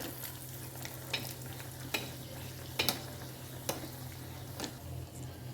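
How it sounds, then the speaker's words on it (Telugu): Cashews, almonds and dry coconut frying in a pan, with a steady low sizzle and scattered sharp clicks of a spoon stirring against the metal, fairly quiet and close. "జీడిపప్పు వేయించుకుందాం"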